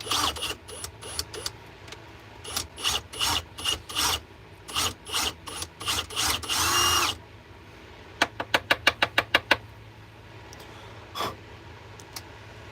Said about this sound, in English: we're just going to ream this out and get that cleaned up